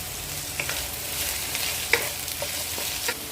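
Chicken and vegetables stir-fry in a hot pan with a loud, continuous hiss, punctuated by occasional clinks and scrapes of a spatula, nearby and without talking.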